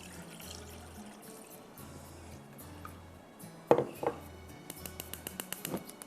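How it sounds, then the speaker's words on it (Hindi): Milk is poured into a pudding mixture made with milk powder in a kitchen, giving a quiet liquid pour and splash that becomes more noticeable in the second half, with light clinks of the container. "मैंने पाउडर लिया है तो इसी में मैं मज़ीद दूध डाल रही हूँ।"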